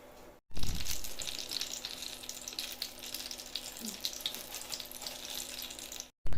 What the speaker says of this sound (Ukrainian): Все, блінчики мої жаряться на сковорідці.